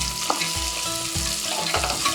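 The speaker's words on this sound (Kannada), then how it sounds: "ಅವರೆಕಾಳು ಅದು ಅದರ ಜೊತೆಗೆ ಫ್ರೈ ಆಗುತ್ತೆ." Onions and avarekalu beans frying in a pan, a loud, continuous close sizzle with a few light clicks of stirring, and nobody speaking.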